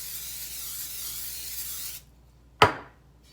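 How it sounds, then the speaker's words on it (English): Cooking spray hisses steadily onto a well-seasoned iron skillet for about two seconds, then stops, followed by a single sharp knock of the can or pan. "And we're going to give it a good spray."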